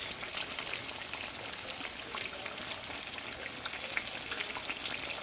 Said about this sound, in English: It's still frying, but it's really, really quiet.